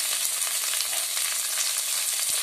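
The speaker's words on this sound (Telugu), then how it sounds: "ఒక 3 ములంకాళ్ళ ముక్కలు ఇవి కూడా వేయించుకుందాం" Drumstick pieces fried with ginger garlic paste for a brinjal and drumstick curry, giving a dense, continuous hiss of hot oil with faint crackles and occasional soft low knocks, steady and close, no speech.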